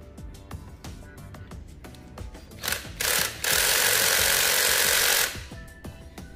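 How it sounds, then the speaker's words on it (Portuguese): Cordless electric screwdriver loosening a tight screw on a Madeshow M10 Plus machine, a short buzzing whir at first, then a steady, loud high-pitched motor whine for about two seconds before stopping, with faint clicks before and after. "Vou ter que usar o auxílio de uma parafusadeira para vir afrouxar."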